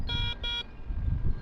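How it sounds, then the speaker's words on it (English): A metal detector held over float quartz gives two short, sharp electronic beeps in quick succession, and a low rumble of handling and outdoor noise follows. "This one's probably going to make the metal detector go nuts."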